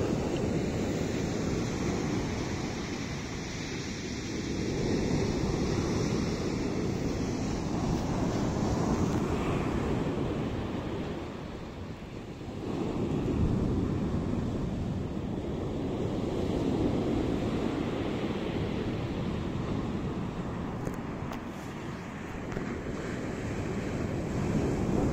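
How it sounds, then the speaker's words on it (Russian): Stormy sea on a Spanish coast near Malaga, waves surging and crashing in slow swells with strong wind buffeting the microphone, loud and continuous with rising and falling surges. "Волны, шторм."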